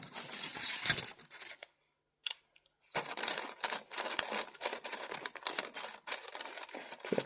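Scissors snip through a paper foot template in quick, close crisp cuts, with a short pause midway before the snipping resumes.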